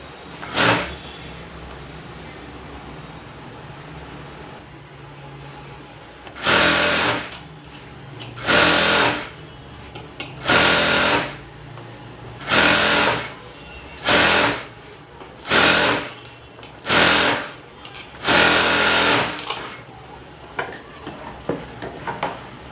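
A sewing machine stitches a border onto a blouse in repeated bursts of rapid, loud needle clatter, about eight runs separated by short pauses, up close and without talk.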